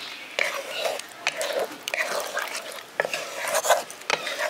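Maggi Manchurian balls stirred in a pan with a utensil, giving continuous scraping and clinking against the metal with faint sizzling, close and steady, while someone talks quietly over it.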